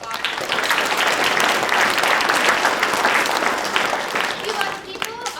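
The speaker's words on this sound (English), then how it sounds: "So give her a round of applause." Sustained audience applause at a school children's theater performance, dense clapping from a full room that holds steady and tapers slightly near the end.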